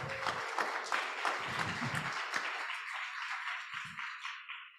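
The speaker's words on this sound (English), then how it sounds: "that's welcome applause" Members of a Unitarian Universalist congregation clap warmly in a short burst of applause that thins and fades away toward the end.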